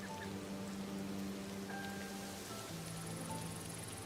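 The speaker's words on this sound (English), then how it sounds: "And now it's raining." Rain falling in the video game Disney Dreamlight Valley, a soft steady patter under faint game music tones, quiet and continuous with no voices.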